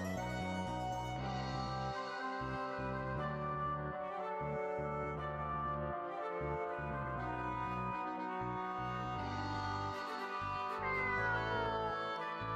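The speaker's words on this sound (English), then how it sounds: "Is that a cat?" A cat in the video game Star Ocean First Departure R meows repeatedly over dense, continuous game music, the cries rising and falling throughout.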